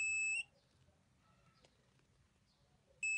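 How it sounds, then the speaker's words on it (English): Electronic buzzer on an infrared obstacle-sensor circuit, sounding two sharp, shrill, piercing bursts, one at the start and one at the end, with near silence between. "So the LED light on and the buzzer sound."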